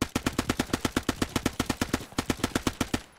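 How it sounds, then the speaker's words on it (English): SMG fire in the video game Gates of Hell: Ostfront, two long rapid bursts of evenly spaced close, loud shots, separated by a brief gap and ending with a short fade. "you're rushing up, you have an SMG,"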